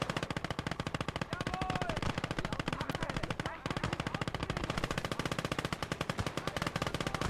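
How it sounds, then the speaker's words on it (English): Sustained heavy machine gun fire from a DShK in a modded video game battle, dense rapid bursts continuing almost without pause, loud and close with other gunfire mixed in. "Yeah, that Dishka is going to be a huge problem."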